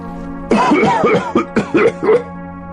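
A few short, rough coughs from one person, close and fairly loud, coming in uneven bursts after a brief quiet start.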